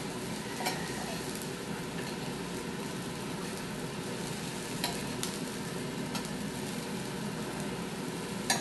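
Noodles frying and browning in a pan, a steady broadband sizzle running without pause, with occasional faint clicks of stirring or utensils against the pan.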